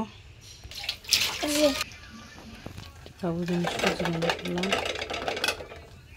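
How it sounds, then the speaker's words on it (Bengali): Plates washed under running water, with clattering dishes and splashing water; a voice and other speech are heard intermittently over the washing sounds. "প্লেটটি পরিষ্কার করবো। কটা প্লেট আছে, যেটি ধুবো"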